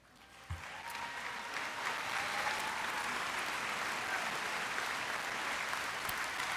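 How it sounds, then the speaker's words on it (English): Applause from the crowd at a Dakota State University commencement ceremony swells quickly and then holds steady, a dense wash of many clapping hands heard from a moderate distance. "give yourselves a round of applause"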